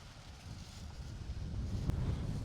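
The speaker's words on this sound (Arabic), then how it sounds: "الله على شويه الهوا دول" Wind blows steadily outdoors beside a house, a soft broad rush with low rumbling gusts on the microphone that swell toward the end, fairly quiet and with no voices.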